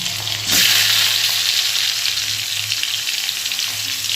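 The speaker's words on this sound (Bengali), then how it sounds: "একটু কালো জিরে দিলাম ফোড়নে। সবজিগুলোকে সব আস্তে আস্তে দিয়ে দেবো।" Vegetables are added to hot oil tempered with black cumin seeds, setting off a loud, steady close sizzle that swells sharply about half a second in and holds without pause.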